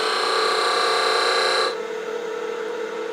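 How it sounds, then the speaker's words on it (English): A skew chisel slicing across spinning wood fibers on a lathe gives a steady, loud rasping hiss that stops abruptly partway through, leaving the lathe's quieter hum. "I'm going to start with a skew just to slice through the fibers."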